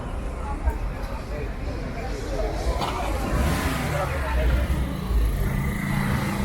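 Cars, trucks and motorcycles pass along a busy street in Medellín, Colombia, a steady traffic rumble with engines swelling by, and crowd chatter mixed in.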